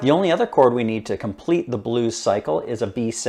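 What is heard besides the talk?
No distinct noise like a dog, phone or traffic.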